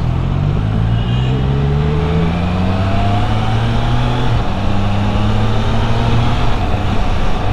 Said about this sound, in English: shifting above 4000 is very, very smooth with the quick shifter